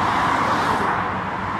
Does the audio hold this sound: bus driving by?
yes